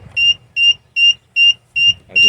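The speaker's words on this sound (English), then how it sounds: "I call it the idiot alarm. It thinks you've fallen over." An electric unicycle's fall alarm beeps six times in an even, rapid rhythm, each high-pitched tone loud and close, with faint murmuring between beeps.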